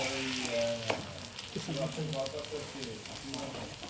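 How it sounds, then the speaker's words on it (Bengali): Egg paratha frying on a pan over high heat, with a steady crackling sizzle of oil throughout and occasional sharper pops, close and fairly quiet. "চুলোর আঁচটা জোর দিয়ে ভালো করে সেঁকে নিচ্ছি।"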